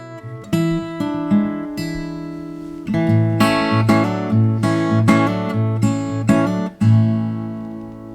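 Acoustic guitar recorded through a Pultec EQ and Fairchild compressor for a 1960s songwriter sound, strummed chords ringing out clearly and alone at close range, with a few sharp strum attacks and sustained decays.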